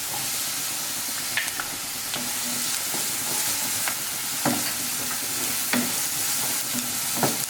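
Finely chopped capsicum sautéing in a hot pan for a chicken pizza sauce, a loud continuous sizzle with spatula scrapes and clicks against the pan at irregular intervals, no voices.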